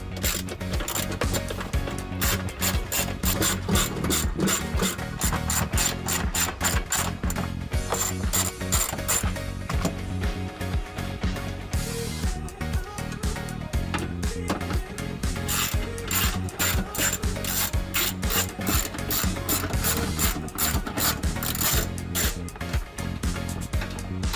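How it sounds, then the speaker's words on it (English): Ratchet with a 10mm socket backing bolts out inside the cab of a Toyota Tacoma, a dense, steady run of fast clicking pawl ticks that continues loudly for the whole stretch with only brief pauses. "We're going to use a 10mm socket and pull those 3 bolts out."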